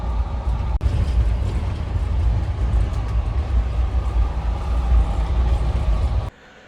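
The Ballia–Sealdah Express, an ICF-coach train, rumbles along with a loud, continuous low roar and rattle heard from inside, cutting off abruptly near the end.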